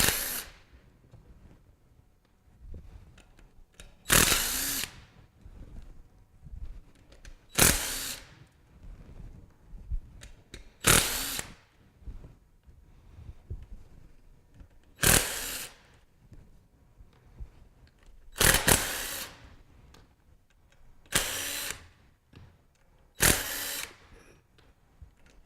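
Power drill backing screws out of a manual pump cap, several short whirring bursts spaced a few seconds apart, close and fairly loud, with quiet handling noise between them.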